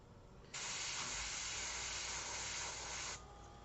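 An airbrush spraying paint for a portrait, passed through Blackbeard wheat to make light patterns: one steady, close hiss lasting about two and a half seconds that starts and stops abruptly over a faint background.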